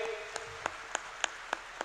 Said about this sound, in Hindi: आयोजन के लिए दिन रात एक करके जुटे हमारे सभी स्वयंसेवी कार्यकर्ताओं के लिए जोरदार तालियां सभी बजाइए।